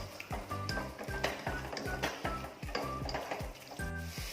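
Ginger, green chili and garlic fry in a pan under a soft sizzle while a utensil stirs them. The utensil scrapes and knocks against the pan in a regular rhythm of repeated thuds, close up and moderately quiet.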